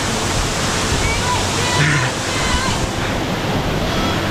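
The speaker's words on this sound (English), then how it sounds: "this waterfall is absolutely stunning, but it is freezing" A waterfall in Grenada roars as a steady, dense broadband rush, loud and close, filling the whole stretch without pause and with no one speaking.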